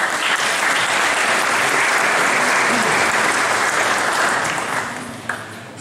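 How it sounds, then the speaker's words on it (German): An audience in the St. Nicolai church in Wittmund applauds a barrel organ performer at a concert, loud, dense clapping that holds steady for several seconds and then tapers off. "Das ist ihr Applaus."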